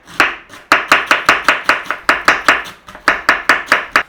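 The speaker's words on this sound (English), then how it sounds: "we want to be fine slicing some cabbage" A knife slices cabbage finely for slaw in quick, even chops against a cutting board, about eighteen crisp strokes in a steady rhythm with one short pause, loud and close.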